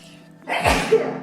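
A single sharp sneeze bursts out nearby after a quick intake of breath, loud and abrupt against a quiet background.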